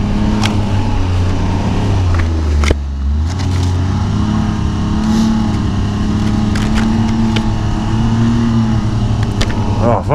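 A 2011 Ski-Doo Renegade Adrenaline 1200 4-TEC snowmobile being ridden: a close, loud four-stroke engine rises and falls in pitch as the rider accelerates and eases off, with steady wind and track noise underneath.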